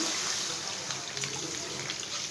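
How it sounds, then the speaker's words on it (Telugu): A steady stream of liquid, a litre of milk for a milk cake, pours into a pan on the stove, a continuous close splashing rush without a break. "ఇందులో అయితే 1 లీటర్ పాలు వేస్తానండి."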